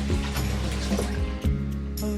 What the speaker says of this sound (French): En faisant le mouvement circulaire, ça rince mon pinceau.